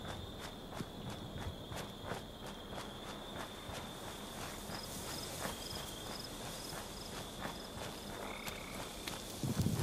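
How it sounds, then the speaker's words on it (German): Frogs croak among chirping insects in a Fallout 76 game setting, a steady faint night chorus with a high whine and soft footsteps moving through it. "Ah, hier sind irgendwelche Frösche."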